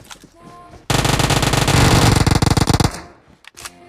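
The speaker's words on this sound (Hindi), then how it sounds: "अब जब हम निकले तभी पीछे युद्ध हो गया यहाँ पर, मतलब इतनी फायरिंग आ रही थी" Heavy automatic gunfire in a video game, a loud sustained burst of rapid shots lasting about two seconds, breaking into distinct rattling pops before fading.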